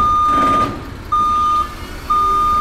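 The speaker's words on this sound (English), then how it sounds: "and then you hear the truck sound go." A reversing truck sounds its backup alarm, three loud, evenly spaced electronic beeps with pauses between them, close and clear over faint background hiss.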